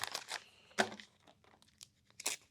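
A plastic Ziploc bag is handled close by, giving short crinkling and rustling bursts separated by brief pauses, faint overall.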